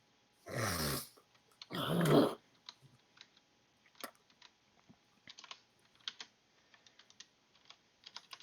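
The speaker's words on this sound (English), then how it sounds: "And more typing is going on." Typing on a computer keyboard during a tabletop D&D session, a quiet, irregular run of light key clicks after two short bursts of louder noise, with no talking.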